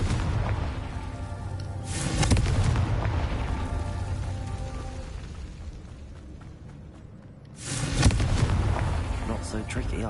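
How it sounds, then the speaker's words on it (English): A fiery Confringo spell explodes in Hogwarts Legacy on PS5. Two deep booms land several seconds apart, and each rumbles away over ongoing game sound. "Confringo."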